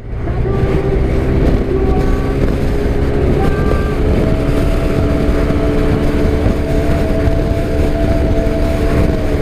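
Steady, loud road and wind roar with a droning engine hum from a Yamaha NMAX Turbo scooter cruising with two riders aboard, continuous and close throughout.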